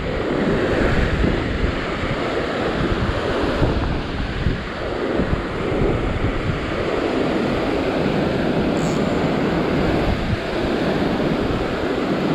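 Ocean surf breaking against a rocky shore under strong wind, with continuous loud roaring wash and gusty rumble across the whole stretch and no talking.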